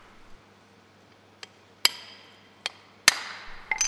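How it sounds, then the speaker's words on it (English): A hammer taps a steel bolster chisel set on a brick's cut line, giving four or five sharp, ringing metallic strikes at irregular intervals, close and alone against a quiet background. "Tap sharply with the hammer along the cut line."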